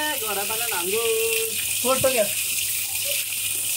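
Fresh water pours and splashes in a steady hiss over someone bathing, while a voice talks briefly over it near the start.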